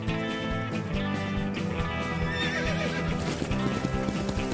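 Horses neighing and whinnying over steady clip-clop of hooves during a horse-surfing scene in a Romanian-dubbed animated farm cartoon, with music playing throughout; loud and continuous.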